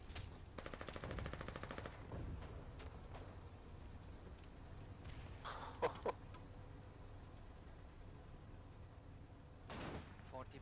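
A tank in a video game taking hits from 20 mm autocannon fire: a rapid burst of clattering impacts at the start, then scattered sharper hits and thuds, while a voice talks faintly underneath.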